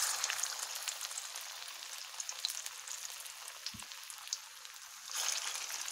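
Cabbage and onion fritters fry in hot oil with a constant bright crackling sizzle, a brief thump midway and the sizzle swelling louder toward the end.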